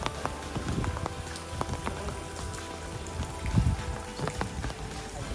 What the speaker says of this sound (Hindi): देखिए सुबह से ही बूंदाबांदी चल रही है